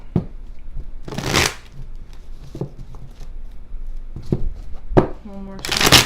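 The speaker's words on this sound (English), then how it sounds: "One more shuffle." Tarot cards riffled and shuffled in two or three quick, crisp bursts, close up, with a person talking between the bursts.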